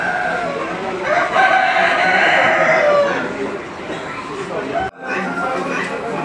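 Chickens at a busy Marrakech chicken market cluck and squawk close by, with rooster crowing rising over a crowded din of many birds; someone talks over the flock for much of the time.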